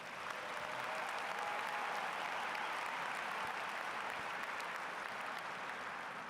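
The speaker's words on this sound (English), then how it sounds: "How about a round of applause for all those students?" A large audience at a high school graduation ceremony breaks into steady, sustained applause, dense clapping heard from within the crowd for the whole stretch.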